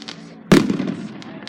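A Fourth of July firework bursts with one sharp, loud bang that decays into a crackling rumble, heard outdoors with faint chatter nearby.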